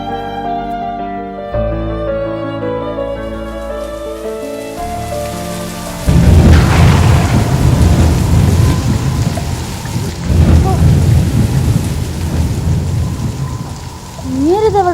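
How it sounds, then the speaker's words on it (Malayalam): Heavy rain pours down steadily, with a rumble of thunder and a loud, dense downpour that surges in strongly after a quieter opening, with brief patches of music-like tones early on. "നല്ല മഴ ഉണ്ടല്ലോ കർത്താവേ."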